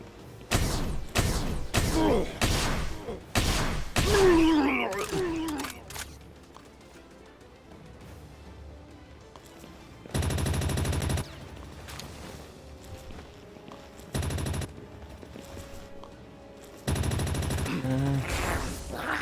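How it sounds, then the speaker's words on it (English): Legendary laser rifle in the video game Palworld firing in a few loud, separate bursts, each lasting about a second, with near gunfire-like blasts. Some talk comes before the shots. "God, I love this legendary laser rifle."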